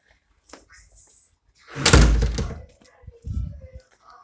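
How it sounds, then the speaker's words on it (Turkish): An indoor door is pushed shut with one heavy thunk near the middle, preceded by light rustling and followed by a couple of softer knocks. "Kapıyı örteyim kapı açık kalmış."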